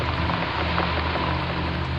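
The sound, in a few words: heavy rain falling, horror story sound effect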